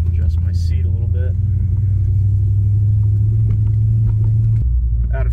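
A Cadillac CTS-V driving in first gear, its engine a deep, steady rumble heard from inside the cabin, loud and continuous, with someone talking briefly over it before the tone drops.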